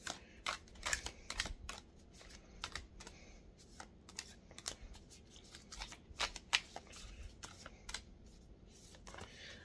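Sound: oracle cards being shuffled and drawn

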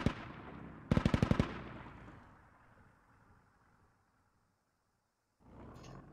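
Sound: Squad video game: militia DShK machine gun firing at Russian MT-LB

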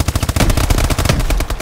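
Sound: gunfire in the video game Call of Duty

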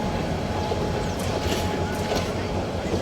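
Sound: train at a station in Bangladesh

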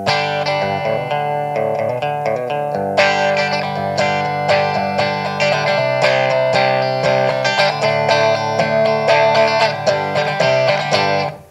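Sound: electric guitar through Big Top Airborne Acoustic effect, resonator-like

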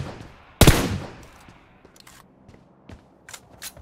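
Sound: gunfire in PUBG video game

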